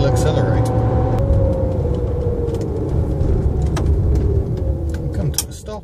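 A Volkswagen Beetle EV electric car accelerates, its rising whine gliding upward steadily over road and tyre noise, with someone talking throughout.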